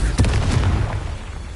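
A Confringo blasting spell goes off in Hogwarts Legacy, a loud, close, booming burst that rolls and fades over about a second.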